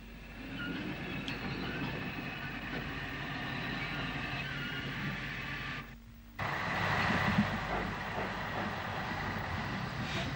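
Sligo tank steam locomotive No. 27 Loch Erne moves toward the shed, a steady rumble of engine and rolling stock with rail clatter, briefly dropping out before returning louder.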